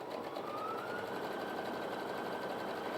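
A Brother Innov-is F560 sewing machine stitches continuously at close range, a steady whirring hum sewing a wide, short-length stitch without interruption.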